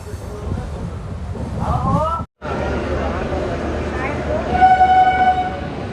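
The Vikramshila Express pulling into Jamalpur Junction, with rumbling rail noise, a brief silent dropout, then a long horn tone over the clatter and station bustle, with voices talking in the background.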